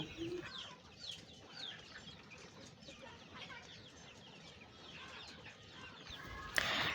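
Chickens and ducks cluck and chirp steadily at a morning feed of leftover rice mixed with bran and warm water, a soft, close flock chatter with no talking and one brief sharp sound near the end.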